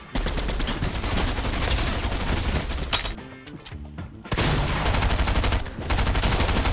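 Rapid gunfire from a Stinger gun in an arena video game, dense bursts of loud shots close up, briefly easing into scattered pops before the firing picks up again.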